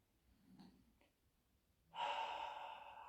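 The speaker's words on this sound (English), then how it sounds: "So just breathe at your own pace, making the exhale last just a little bit longer than the inhale." Slow, deep breathing during a qigong exercise: faint soft breaths at first, then a long, steady, airy exhale that stays audible to the end, close and quiet.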